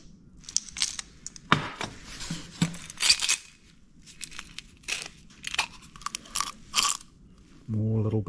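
Meccano parts such as sprockets, small shaft couplers and gears being handled and sorted, giving close, irregular metallic clicks, rattles and clatters in bursts, ending with a short hum.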